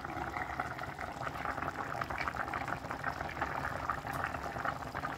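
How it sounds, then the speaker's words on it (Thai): Food boils in a pot on the stove with a continuous, soft bubbling and gurgling. The sound is close but fairly quiet and stays even throughout, with no clear voices. "ต้มนานแล้วค่ะใกล้จะเสร็จแล้วนะ"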